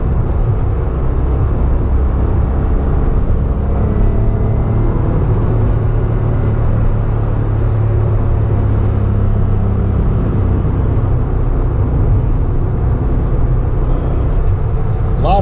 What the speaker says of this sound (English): So this car has an aftermarket exhaust, so it is loud in here.